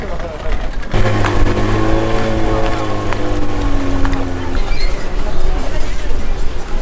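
A boat motor runs steadily and loudly close by on clear tropical water off Malaysia, its droning hum holding an even pitch for several seconds before dropping away, with wind and water noise throughout.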